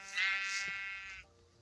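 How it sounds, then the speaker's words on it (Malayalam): A goat bleats in the Minecraft video game, one drawn-out, wavering bleat that is loud and close, fading out near the end with no talk over it. "ഇത് നമ്മളെ സാധാരണ ആട്."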